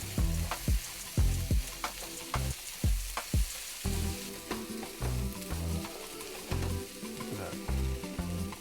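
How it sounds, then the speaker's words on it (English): Pecan-based vegan ground beef with taco sauce sizzles in a pan while a spoon stirs and scrapes, bringing repeated clacks and sharp knocks over a continuous frying hiss, close and without talk. "We're gonna get that a stir."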